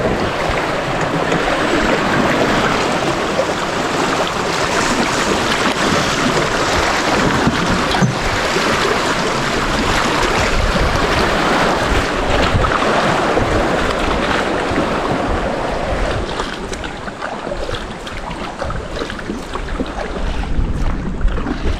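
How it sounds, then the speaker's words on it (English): A small boat being hauled up river rapids toward Pagsanjan Falls in the Philippines, with loud, continuous rushing water and splashing that holds steady throughout and eases slightly near the end. "Pulling the boat up the rapids."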